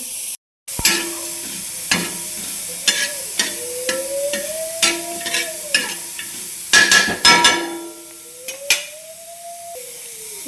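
Dried coconut is stirred and scraped in a hot pan while roasting, with steady, repeated spatula strokes, while a faint rising tone sounds in the background.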